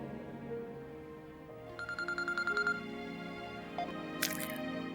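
Telephone ringing unanswered, a short burst of rapid electronic trilling pulses that stops after about a second, with music and background noise around it.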